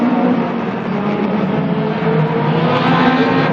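Race cars at the Rolling Thunder Show finals, including car number 19 closing on car 717 in the final laps, roar continuously at close range, a loud steady engine drone with shifting pitch as they run the track.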